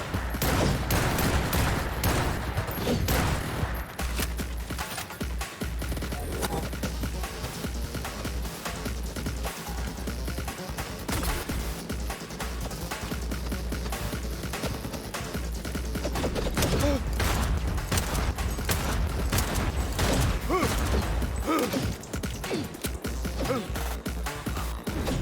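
Dense, sustained gunfire in Cyberpunk 2077, with rapid shots crackling almost continuously at high volume and a few sharp breaks in the barrage.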